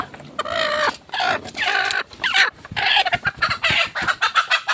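Several egg-laying hens cluck busily and continuously, their calls overlapping in quick, uneven bursts, close by and fairly loud.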